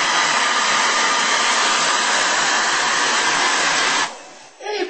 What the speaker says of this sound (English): I think it is the best thing to use the hair dryer.